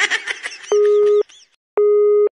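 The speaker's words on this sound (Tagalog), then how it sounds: "The number dial cannot be reached." Two loud, steady electronic phone tones signalling an unreachable number, each about half a second long with a clear gap between them, following a moment of voice-like prompt sound.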